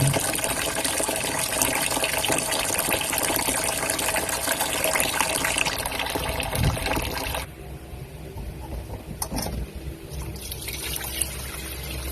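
Rice washed in water in a basin, running water trickling and splashing steadily and close up, then quieter dribbling and sloshing as the flow eases, with no talking.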